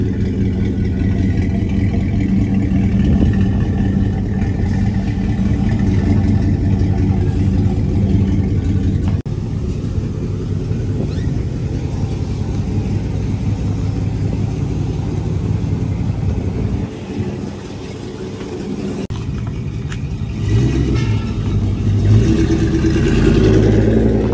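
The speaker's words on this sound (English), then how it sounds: "Already picked up the truck, guys." A green pickup truck's engine runs loud and close, idling with a steady low rumble and rising into revs, with a brief dip near the end before revving again.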